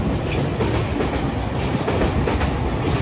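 A train rumbles by nearby with a dense, steady roar and faint rhythmic clatter, loud and continuous throughout in an outdoor city setting in Tokyo.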